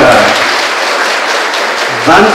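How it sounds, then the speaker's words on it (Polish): A ceremony audience at a Fat Thursday community gathering in Poland gives loud, sustained applause, a thick wash of clapping that lasts a couple of seconds with a voice briefly rising at the end. "Gorące brawa."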